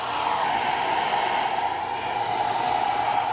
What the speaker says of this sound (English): Now what we can do is get a hair dryer and dry it.